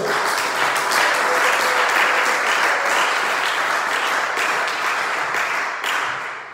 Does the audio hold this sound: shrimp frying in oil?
no